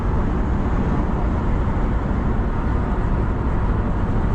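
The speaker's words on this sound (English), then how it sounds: "This truck is louder." Steady broadband road and wind roar fills the cabin of a 2025 Ram HO Hurricane pickup truck cruising at highway speed, a constant loud rumble with no talk.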